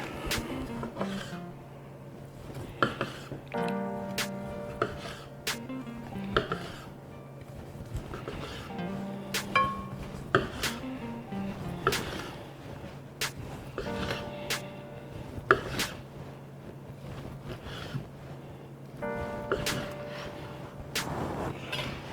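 A knife sawing through cooked steak on a board: repeated rasping back-and-forth strokes in a steady rhythm, close and fairly quiet, with occasional sharp taps of the blade and a low background hum.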